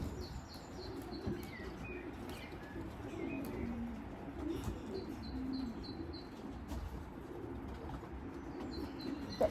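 Racing pigeons cooing softly around an old bird race loft, repeated low coos with scattered chirps and occasional wing flaps, moderately distant over outdoor ambience.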